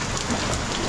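Rain falls steadily as a soft, even hiss of drops on surfaces, faint and alone, with no talking.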